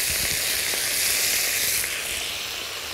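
Chicken pieces hit hot sesame oil in a very hot wok and set off a loud, steady hissing sizzle that holds evenly across the whole stretch with no voices.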